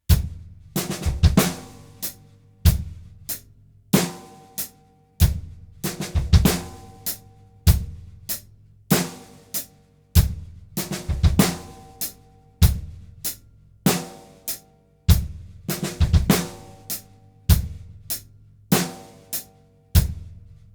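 Drumset groove built on five-stroke rolls led by the left hand on the snare, crisp snare rolls and sharp accents cycling in a steady repeating pattern over low drum thumps, played close and alone for about twenty seconds.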